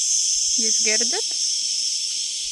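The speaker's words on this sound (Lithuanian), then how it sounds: "Čia cikados. Taip garsiai." Cicadas in Malta drone loudly and continuously, a dense high-pitched buzz running through the whole stretch, while a voice briefly speaks over it near the start.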